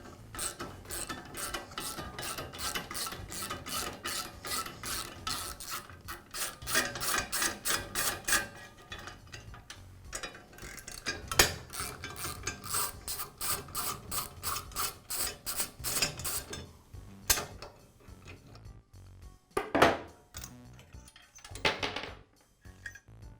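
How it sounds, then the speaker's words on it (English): Bolts come off the motor pulley cover of a Southland lawn edger with long runs of rapid, rasping ratchet clicks, close and steady, broken by short pauses and a few louder knocks near the end. "I'll begin by removing the motor pulley cover."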